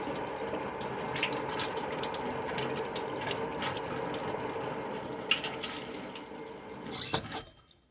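Garden vegetables are rinsed under a running kitchen tap, a steady close rush of water with small splashes and shifting spatter, ending in a brief louder splash as the flow stops.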